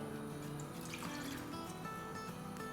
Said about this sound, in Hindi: इसमें अब हम डाल देंगे 1 कप पानी